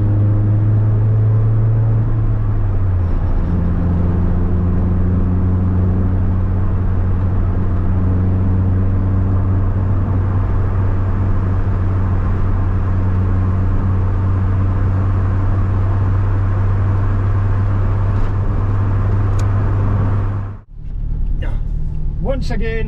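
Vauxhall Nova driving with a steady engine drone and road rumble from inside the cabin, the pitch stepping as gears change, with a brief dip near the end.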